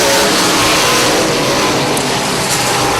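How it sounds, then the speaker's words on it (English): Super late model stock car, a Chevrolet, roaring down the back straightaway of a race track, loud sustained engine noise with no pause, close and dominant. "Johnson once again driving it deep down into turn number 1, powers down the back straightaway"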